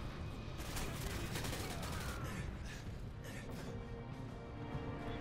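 Dense, continuous bursts of rapid gunfire in Modern Warfare 2 crackle throughout, with sharp repeated shots layered over a steady background of game noise.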